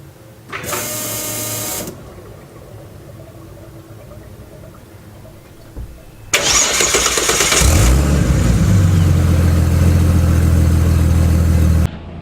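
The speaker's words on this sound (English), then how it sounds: "let's turn the fuel pump on." Fuel pump switching on in a Ford XR6T: a loud buzzing whir runs for about a second, then after a pause a longer, louder whirring hum with a steady low drone that holds for several seconds before cutting off.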